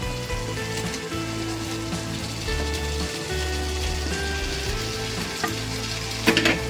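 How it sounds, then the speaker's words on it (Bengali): Fried potato pieces tipped into hot spiced oil sizzle and crackle steadily for several seconds, close and fairly loud, with faint stirring scrapes and a brief clatter near the end. "এবারে আমি এর মধ্যে দিয়ে দেবো ভেজে রাখা আলুর টুকরোগুলো"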